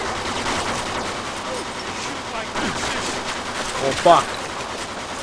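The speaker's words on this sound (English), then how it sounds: "They're shooting at me, for Christ's sakes." Enemy gunfire in the Mafia 2 video game, scattered distant shots and bursts mixed under a man's swearing, with one sharper crack near the end.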